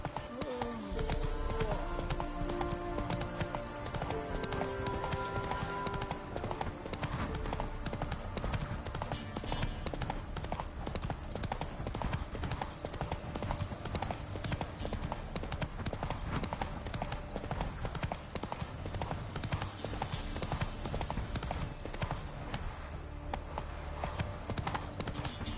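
Roach, the horse in The Witcher 3, gallops with rapid, steady clip-clop hoofbeats that run unbroken throughout, loud and close under a layer of game music.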